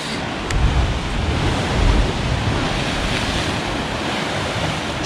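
Ocean surf pushing through a blowhole on a rocky coastline around Tasman Arches and Devils Kitchen near Hobart, heard as a steady broadband wash with low rumbling surges and some wind noise, no voices.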